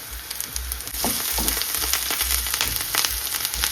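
Loud, steady sizzling of cut green chilies frying in hot oil for a tuna curry, with a burst of crackling as they hit the pan, then continuous spitting and bubbling.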